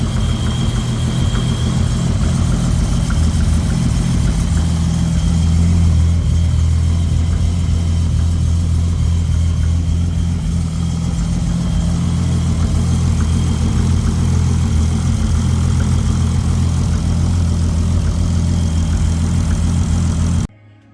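Freshly built RB26 engine in a Nissan Skyline GT-R R34 running just after start-up, a loud steady rumbling idle held for about twenty seconds before cutting off abruptly.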